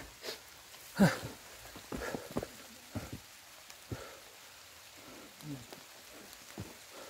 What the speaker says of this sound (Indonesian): sekarang udah mulai deres nih hujan nih